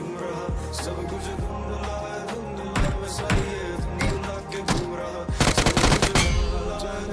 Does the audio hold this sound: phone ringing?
no